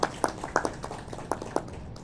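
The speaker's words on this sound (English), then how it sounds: "A big round of applause for all the respective jury members." Scattered applause for jury members at a student aviation competition at Wings India 2026, heard as a sparse run of sharp, distinct hand claps spread over two seconds rather than a full roar.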